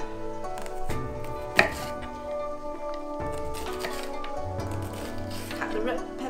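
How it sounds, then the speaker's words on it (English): Knife chopping red peppers thinly on a board, a quick run of close crisp taps with one sharper strike, set under a talking voice. "Cut the red peppers quite thin"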